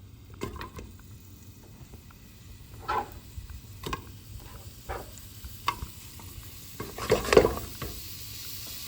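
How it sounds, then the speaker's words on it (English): Chicken and sausage browning in avocado oil in a pot: a low, steady sizzle with clinks and knocks of a utensil against the pot, and a louder stirring scrape near the end, with no voices. "we have our pot with a little avocado oil, and we're gonna go ahead and let these brown"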